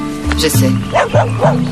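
A dog barks several times in short, close yips while a person speaks over it.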